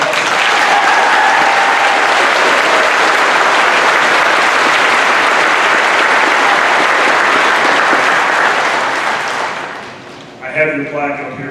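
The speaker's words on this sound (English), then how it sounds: "Miss Mariah Koenig, please give her a round of applause." A crowd applauds loudly and steadily for about ten seconds at a high school graduation ceremony before the clapping fades and a voice begins speaking.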